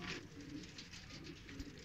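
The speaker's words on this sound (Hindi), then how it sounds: "ये कबूतर है जी" Soft, low cooing from flyer pigeons, steady and fairly close, running through the short stretch with a faint background hiss and no talk.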